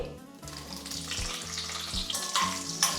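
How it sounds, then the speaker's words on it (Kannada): Small sambar onions fry in oil with cumin, mustard seeds and curry leaves, a continuous close sizzle with stirring scrapes over a background of steady tonal music. "ಇವಾಗ ಒಂದು ಹತ್ತು ಸಾಂಬಾರು ಈರುಳ್ಳಿನ ಹಾಕೋತಿದ್ದೀನಿ"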